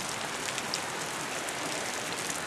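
Light rain sprinkles outdoors as a steady, even hiss of drops on surfaces, continuous and moderately loud with no voices over it.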